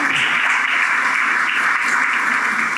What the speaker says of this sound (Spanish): Denle ese aplauso al Rey bendito.